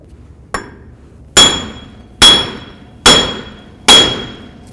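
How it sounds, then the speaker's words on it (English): A hammer striking a Jeep Cherokee front wheel bearing assembly to knock it loose: one lighter tap followed by four loud, ringing metallic blows at an even pace, close up in an otherwise quiet space. "when I smack this with a hammer to get this off"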